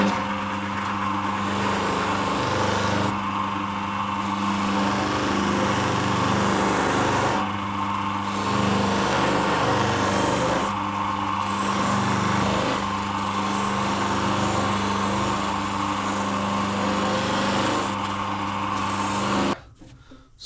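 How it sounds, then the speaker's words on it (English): A motorised buffing mop runs steadily against a two-stroke exhaust silencer, a loud, continuous whirring drone that dips slightly every few seconds as the workpiece is pressed and eased off, then cuts out at the end. "I'm just going to put a slight sheen to it on the mop, not polishing it, mirror polish, just a slight sheen."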